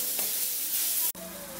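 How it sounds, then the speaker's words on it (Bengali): Vegetables with garam masala fry in a pan, a steady close hiss of sizzling oil that cuts off abruptly, then resumes more quietly with a faint tonal hum. "এখন এটাকে আবারও 1-2 মিনিট ফ্রাই করব।"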